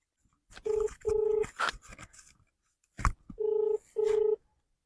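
Electronic keypad tones beep in short steady bursts, four key presses in two pairs separated by brief clicks and rustling, close and clear.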